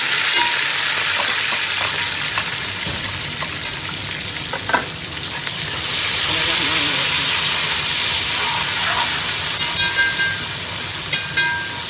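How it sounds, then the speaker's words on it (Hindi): Tomatoes and green chilies frying with onion and ginger for beef pulao, a loud steady sizzle with occasional stirring scrapes throughout, no talking. "अब इस मौके पे टमाटर और हरी मिर्च भी डाल देते हैं"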